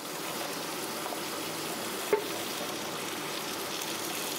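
Chopped carrots and beans go into a hot frying pan for navratan korma, giving a steady, close, even sizzle of frying with a brief clatter midway and no talking.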